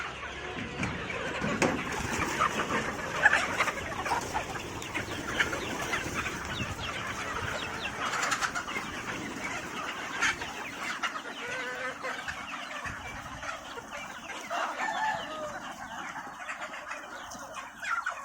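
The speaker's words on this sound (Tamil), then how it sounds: "கோழி இப்போ தான் திறக்க போகிறோம்." A flock of chickens clucks steadily in a coop about to be opened for a feed of paddy bran and rice, with busy overlapping cackles throughout at moderate distance.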